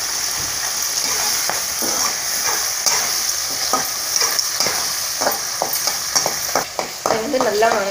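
Vegetables with pepper, tomato, turmeric and rock salt sizzle and fry in a pan for a Tamil-style curry, with steady frying hiss broken by repeated scraping stirs of a spoon against the pan.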